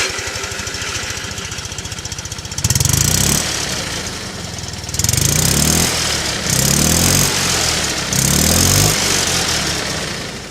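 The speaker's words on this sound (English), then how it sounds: "when it idles, it genuinely, I mean, it sounds like an actual lawnmower" A Fiat 500 engine cranks and wheezes into life, then idles with a rough, uneven putter like a lawnmower, loud and close, its chugging rising and falling in repeated surges.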